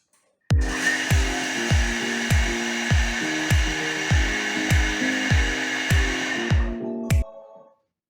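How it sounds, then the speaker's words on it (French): A Thermomix blends a courgette and emmental mixture at speed 10 for about five seconds: a loud, steady whirring roar with a regular thumping pulse, stopping abruptly and winding down. "Et on va mixer 5 secondes à vitesse 10."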